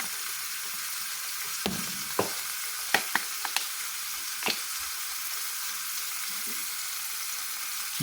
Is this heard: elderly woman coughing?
no